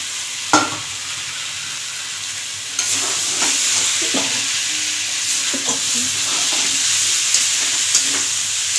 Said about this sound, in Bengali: এবার ভালো করে ভেজে নিতে হবে, মশলার সঙ্গে ভেজে নিতে।